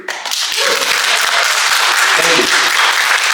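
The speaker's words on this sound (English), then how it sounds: "This is what we call an easy applause break in the business." Audience applause fills a stand-up comedy show, a dense, loud wash of clapping that swells quickly and holds steady, with cheering voices mixed in throughout.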